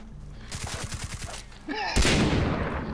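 Rapid bursts of gunfire from the video game Far Cry 3, a quick rattling string of shots followed by a louder, denser blast of fire, with a voice speaking over it.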